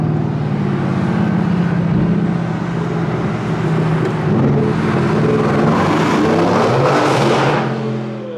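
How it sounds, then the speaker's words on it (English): A Mercedes-AMG GT R engine roars steadily inside a tunnel, a loud, continuous low drone with reverberant rumble that swells and builds in intensity toward the end. "a sound clip of how the AMG GTR sounds in a tunnel"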